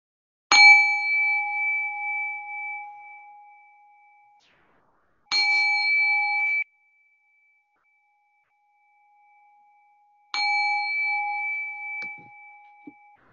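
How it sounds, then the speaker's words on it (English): A meditation bell is struck three times, each clear metallic ring sustaining and slowly fading, with quiet pauses between strikes. "Go ahead and ring the bell."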